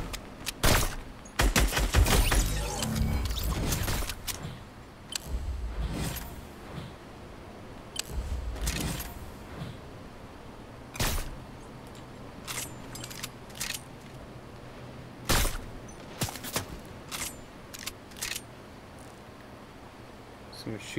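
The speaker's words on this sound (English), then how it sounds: "Someone's shooting at us." Fortnite gunfire comes as scattered bursts and single sharp shots, with a dense cluster early on and then spaced cracks over twenty seconds, mixed with game effects and a voice talking in between.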